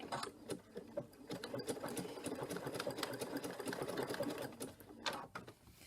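A sewing machine runs steadily along a thick quilt seam, a soft continuous rhythmic whirring hum, close but quiet, with no talking.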